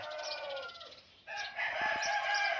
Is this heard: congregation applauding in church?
no